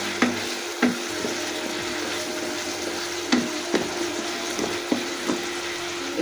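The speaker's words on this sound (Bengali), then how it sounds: "মশলাটা কষানো প্রায় হয়ে গেছে" Spice masala sizzling in oil in a pan as it is fried down, with a steady hiss and periodic scraping knocks of a spoon stirring it at close range.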